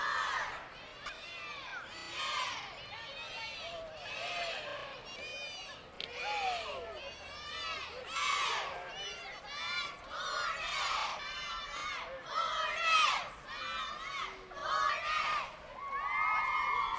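A squad of Grove Hornet cheerleaders chanting and shouting in unison as they pass in the Ashland Winter Wonderland Parade, rhythmic high voices in bursts over crowd noise.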